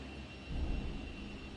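A 1964 Chevrolet Impala SS two-door hardtop idles through dual exhaust with Flowmaster mufflers, a low steady rumble that swells briefly partway through before settling back to an even drone.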